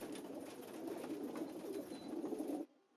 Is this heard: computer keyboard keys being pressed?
no